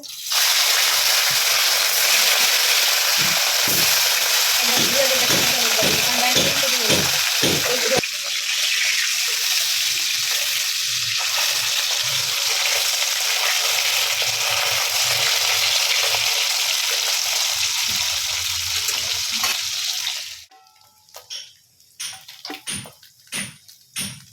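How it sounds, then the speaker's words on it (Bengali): Fish coated in turmeric and salt frying in hot oil: a loud, steady, close sizzle that runs for about twenty seconds and then cuts off, leaving faint clinks and small kitchen noises. "মাছগুলো হলুদ নুন মাখিয়ে চলো ভেজে নিই"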